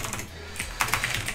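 Quick, uneven keystrokes tap on a computer keyboard close by for a brief burst, with no talking.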